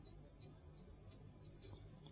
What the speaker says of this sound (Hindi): कॉन्टीन्यूटी रेंज में ये दोनों पॉइंट जब आपस में कनेक्ट होते हैं तो बीप करते हैं।